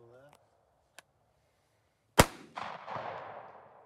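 A single sharp 9mm handgun shot cracks out at an outdoor family shooting session, followed by a rumbling echo and low background noise, with a brief voice heard just before.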